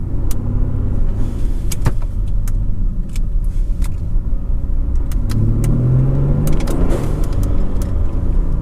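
Car running on 93 pump gas after a switch from E30 is driven around the block, heard from inside as a steady engine and road drone with occasional clicks and light rattles, rising briefly under acceleration, with no talking.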